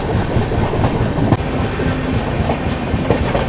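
The KSR Bengaluru to MGR Chennai Central double decker express running near Whitefield, heard from onboard as a loud steady rumble with rhythmic clickety-clack of wheels over rail joints.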